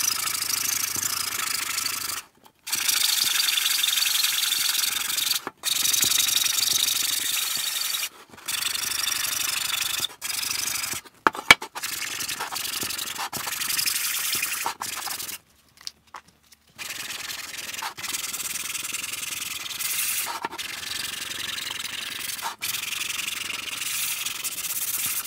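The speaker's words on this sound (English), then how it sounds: "I think that's probably as sanded as it gets" A 3D-printed Futurama Bender robot part is sanded by hand in long, rasping strokes, loud and close, broken by a few short pauses.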